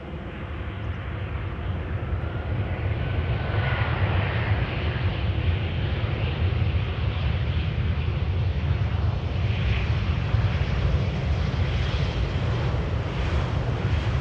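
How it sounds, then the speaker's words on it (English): A KLM Embraer jet arriving from Geneva to land at Amsterdam Schiphol's Polderbaan runway 18R, heard as a loud, continuous broadband engine roar that stays steady throughout, with no voices. "An Embraer from KLM arriving from Geneva."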